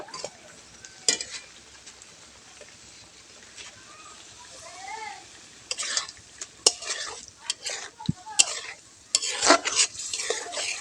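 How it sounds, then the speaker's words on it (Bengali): Rui fish pieces frying in oil in a pan and being turned, soft sizzling under intermittent sharp scrapes and clinks of a utensil against the pan, irregular bursts with quiet gaps. "এবার আমরা মাছগুলো দিয়ে দেব। মাছগুলো উল্টো পাল্টা করে দেব।"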